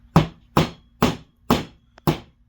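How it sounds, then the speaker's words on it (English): A small hammer taps a pin into a kit part resting on a block of wood, five sharp, evenly spaced strikes close to the microphone with silence between them. "we're going to take our little hammer,"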